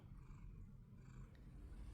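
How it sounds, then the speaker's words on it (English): A pet cat purrs quietly while being held outdoors at sunrise, a soft continuous low rumble lasting a couple of seconds with faint background ambience and no talking. "she always starts purring as soon as I pick her up."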